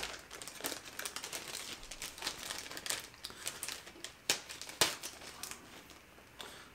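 Crinkling plastic bag opened and rummaged through while unpacking LED headlight bulbs for a 2011 GMC Sierra, with steady close rustling and a couple of sharper crackles.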